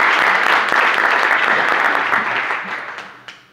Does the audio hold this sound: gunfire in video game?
no